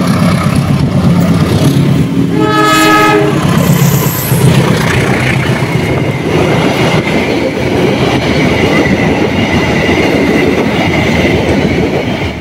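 A loud train rumbles past up close on an elevated railway, its horn blaring for about a second amid the steady clatter of wheels on the rails.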